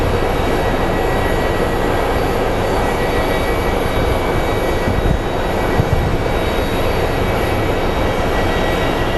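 A train rolls past near Sky Harbor International Airport in Phoenix, a steady loud broadband rumble and roar lasting throughout, close by, with no pauses and no voices.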